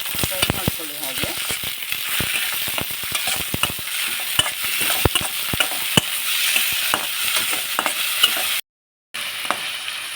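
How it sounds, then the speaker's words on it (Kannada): Paddu ingredients frying in a pan, a close, steady crackling sizzle with frequent sharp taps and scrapes from stirring running throughout, briefly cut off near the end. "ಇದಿಷ್ಟನ್ನು ಹಾಕಿ ಫ್ರೈ ಮಾಡ್ಕೊಳ್ಳಿ"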